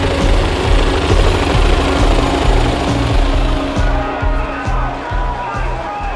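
A police helicopter flying over London, a loud, steady rotor roar with a rhythmic chop that fills the scene continuously, close and dominant, with faint crowd noise beneath.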